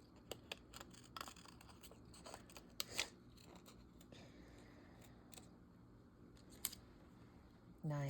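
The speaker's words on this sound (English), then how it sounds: "it's so boring to watch people fussy cut" Scissors snip through paper in quick, quiet cuts, fussy-cutting around shapes for a craft piece, with soft rustles of paper between the sharper clicks and no talking.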